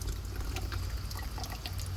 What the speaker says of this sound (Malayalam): അടുത്തതാ തൈര്. നല്ല കട്ട തൈരാണ് ഒഴിക്കുന്നത് കേട്ടാ.